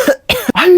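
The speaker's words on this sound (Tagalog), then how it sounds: "Hala, inuubo ka ba, nak?" A child coughs in short bursts, three close, loud hacking coughs with brief pauses between them, heard alone.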